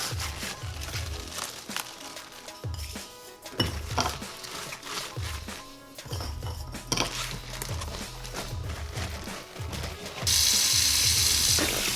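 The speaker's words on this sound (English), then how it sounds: "we're going to rinse off the cabbage" Salted cabbage being rinsed and squeezed in a sink for kimchi, with repeated wet sloshing, rubbing and splashing in uneven bursts, ending in a loud rush of running tap water.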